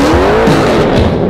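A 1970 Dodge Charger Tantrum muscle car with a 9.0-liter V8 engine roars loudly and close, with a rising engine note and tires squealing briefly over the rumble.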